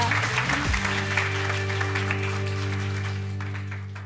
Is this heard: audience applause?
yes